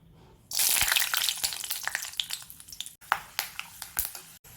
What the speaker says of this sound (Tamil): இப்போ இதில் வேர்க்கடலை போட்டு ஃப்ரை பண்ணிடலாம்.